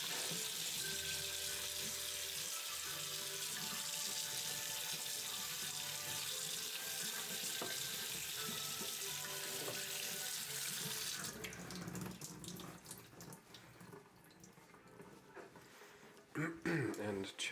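Tap water runs steadily into a kitchen sink while food is rinsed, a loud continuous hiss that cuts off about two-thirds through, leaving clattering handling noises near the end.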